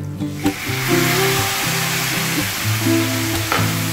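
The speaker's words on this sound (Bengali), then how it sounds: "এবার আমি আর একটু জল দিয়ে দিচ্ছি, কারণ এগুলো একটু সিদ্ধ হওয়া দরকার" Water poured into a pot of cooking dalia hits the hot contents with a loud, steady hiss and sizzle that holds for a few seconds, with low bubbling underneath.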